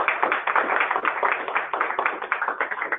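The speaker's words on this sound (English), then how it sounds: "Give her a round of applause." Clapping from a workshop audience, a moderate group of hands beating in an uneven, continuous patter, close and fairly loud, with a narrow, muffled tone.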